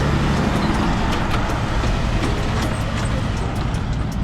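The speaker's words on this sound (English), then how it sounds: "Had another truck pass by that was kind of loud." A loud truck rumbles past at close range, a broad steady roar of engine and road noise lasting several seconds at a parking lot.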